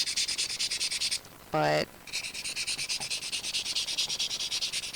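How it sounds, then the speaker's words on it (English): An old nail file rubs along the edge of a mini top hat pin cushion in rapid, even rasping strokes, close and continuous, briefly interrupted by a spoken word. "Something else I like to do is go around the edge. I use an old nail file."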